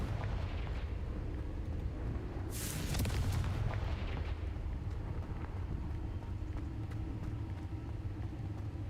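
A Confringo explosion spell in Hogwarts Legacy bursts once as a single sharp blast a few seconds in, then trails off into a steady low rumble of background noise.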